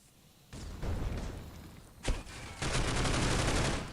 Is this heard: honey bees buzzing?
no